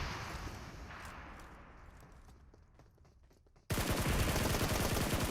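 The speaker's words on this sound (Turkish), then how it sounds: "Yalnız başka yerden daha roket attılar buraya." Gunfire in PUBG Mobile, where rockets are being launched: a rough, fading rumble of shots gives way to a sudden, very loud, sustained blast of explosive noise that fills the last stretch.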